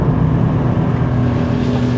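Porsche 911 Turbo S engine on a race track in sport mode, a steady loud drone with a strong low harmonic hum, held continuously with wind rush over it.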